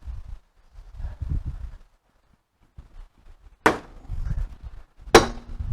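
Two sharp, loud hammer strikes on wood spaced about a second and a half apart, with faint knocking and handling sounds between them.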